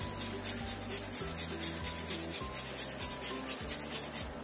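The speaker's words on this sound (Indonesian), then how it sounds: "Terus bawang merah, ini juga kita parut." Shallots are rubbed back and forth across a grater in a steady, repeated scraping rhythm, each stroke a soft rasping swipe, close up and moderately quiet with no talking.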